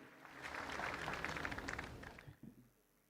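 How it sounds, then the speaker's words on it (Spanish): A congregation inside the Basilica of Caacupé breaks into applause during Mass, a fairly faint swell of many hands clapping that builds, holds for about two seconds, then fades into room quiet. "Un fuerte aplauso a cada uno de ustedes por esta hermosa concurrencia"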